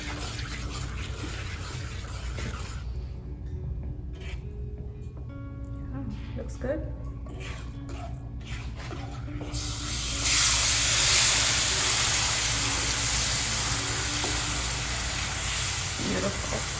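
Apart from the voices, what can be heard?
water added to hot pan sizzling while cooking Indian sweets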